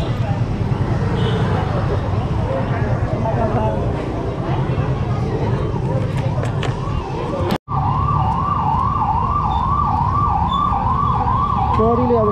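A police siren wails to order shops closed, a warbling electronic tone rising and falling over steady traffic and crowd noise, growing louder and clearer partway through after a brief dropout.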